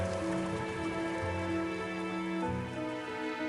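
Steady rain falls on a surface, a dense even patter of drops that holds constant without any voices.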